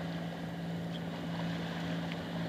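A sailing boat's engine, restarted while under way, runs as a steady low drone with a constant hum, mixed with wind buffeting and water noise throughout.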